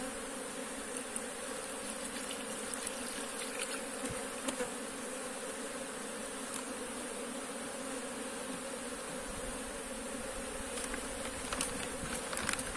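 Dense, steady drone of many honeybees buzzing close by at an open hive, continuous throughout with occasional faint clicks and rustles.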